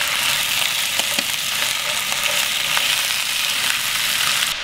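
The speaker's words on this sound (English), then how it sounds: "gently frying the chicken on both sides for a few minutes just to seal it" Chicken pieces being gently fried in a pan for a Viking-style stew with dark beer, giving a steady, loud, continuous sizzle with faint ticks and pops throughout and no talking.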